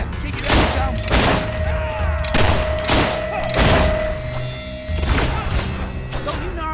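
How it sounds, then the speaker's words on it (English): Gunfire from the video game Fable 3: repeated loud bursts of shots and impacts in a battle scene, with voices shouting over the firing. "We're under fire! Keep your heads down!"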